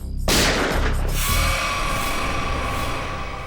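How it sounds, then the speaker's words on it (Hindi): A single loud gunshot bursts out sharply near the start of a crime drama scene from the Indian TV series CID, its boom and echoing tail decaying over the next few seconds. "गोली चली क्या?"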